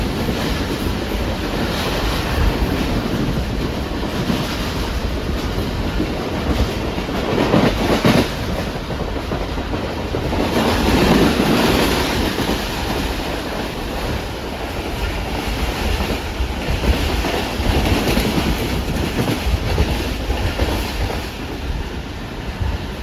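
Pak Business Express train from Karachi to Lahore passing a station at high speed, heard from aboard as a steady loud rumbling roar with rhythmic wheel clatter and rushing wind throughout.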